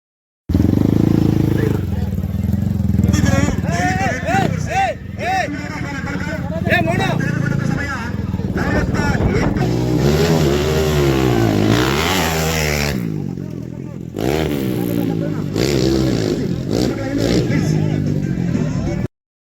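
Motorcycles and cars rev loudly and continuously at a Ganesh festival rally at Chatra Maidan in Mudigere, with engines rising and falling over a crowd's babble and voices.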